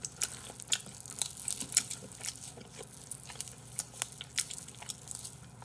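Crisp skin of an electric rotisserie roast chicken crackles and tears in quick, soft bursts, close up and quiet, with no voices.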